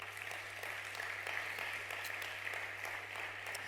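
A church congregation applauds during a sermon, a steady, fairly distant wash of many hands clapping that holds evenly throughout over a low constant hum.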